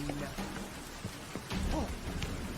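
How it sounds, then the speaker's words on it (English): Steady rain pours across the open-world fantasy game The Witcher 3, a dense hiss with scattered droplet ticks, while a brief vocal sound and low thuds rise over it midway. "Rain, I like rain."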